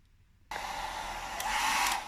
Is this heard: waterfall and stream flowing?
no